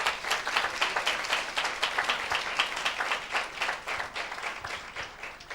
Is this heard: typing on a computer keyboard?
no